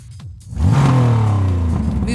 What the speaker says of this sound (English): Next Porsche is the popular 718 Cayman GT4 RS.